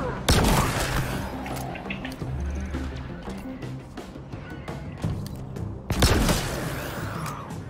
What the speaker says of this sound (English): It's a electric shotgun sniper.